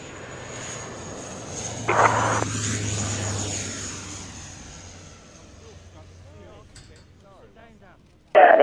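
A fixed-wing aircraft lands on runway 27 at an air tattoo show, its engine drone passing at middle distance, swelling and then slowly fading, with brief bursts of other noise breaking in.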